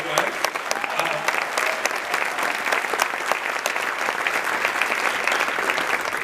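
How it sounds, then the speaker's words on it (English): At a banquet, an audience claps for the speaker's wife. The applause is brisk and lively, with many distinct hand claps standing out, and it stays steady and fairly close for the whole span. "please applaud my wife"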